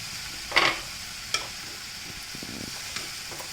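Jowar noodles being stirred and tossed in a pan, a few soft scraping and sizzling bursts near the start and then quieter, scattered stirring sounds.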